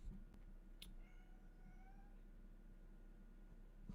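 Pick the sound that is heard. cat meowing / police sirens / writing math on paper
cat meowing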